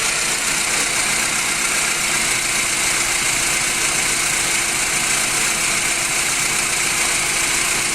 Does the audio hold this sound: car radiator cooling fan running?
yes